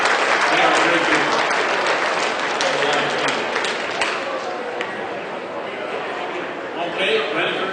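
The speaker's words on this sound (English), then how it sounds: "Let's have a nice round of applause for Fred Wells." Sustained crowd clapping at a dog auction event, loud at first and gradually thinning, with some voices under the applause and a brief swell near the end.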